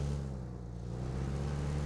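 A car engine in PUBG on the Erangel map hums low and steady, a faint continuous motor drone that holds without notable revving.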